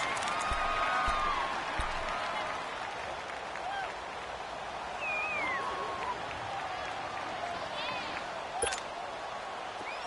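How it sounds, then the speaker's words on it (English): Stadium crowd noise in Madden 19, a steady wash of distant cheering and applause with occasional whistles and whoops, rumbling continuously beneath the game broadcast. "The crowd's not doing that O-line any favors. Home field advantage is really kicking in, making it very difficult for them to hear the snap count."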